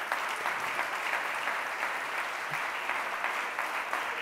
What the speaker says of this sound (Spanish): para la que pido también un aplauso